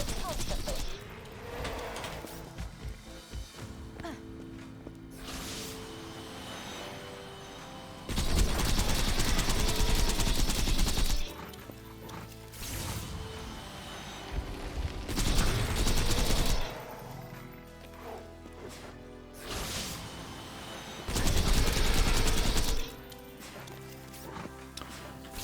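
Borderlands 2 boss fight with a boss shooting beams, loud bursts of rapid weapon fire and beam blasts in repeated blocks over busy game effects and music.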